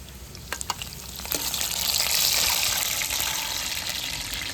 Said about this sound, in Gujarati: વઘાર માર્યો છે અહીંયા આગળ દાળનો.